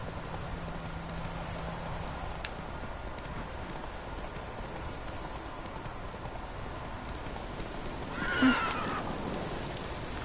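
A horse in The Witcher 3 gives steady, rhythmic hoofbeats under a constant patter of rain, with a brief whinny near the end; the hooves stay moderately close and even-paced.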